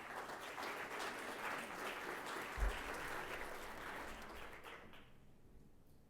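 Audience applause at a NewSpace 2014 lightning pitch competition, a sustained round of clapping from a crowd that fades out toward the end.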